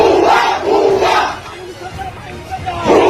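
Crowd of students loudly chanting protest slogans in unison on a university campus, voices rising and falling in repeated rhythmic bursts.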